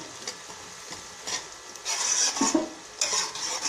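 Golden fried onions being stirred in a pan, gentle scraping and rubbing strokes with a faint sizzle, growing louder and busier in the second half, close by with no voices.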